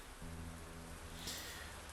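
Steady rain falling in the Arknights game, a faint, even wash of drops with no voices.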